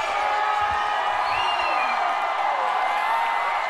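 Stadium crowd at an under-19 SAFF Championship football match between India and Nepal keeps up a steady, loud roar of cheering and applause, with no break.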